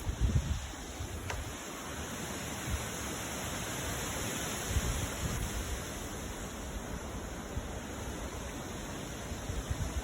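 Strong outdoor wind with gusts around 45 mph, a steady broad roaring rush that swells slightly midway and stays loud throughout, with no voices.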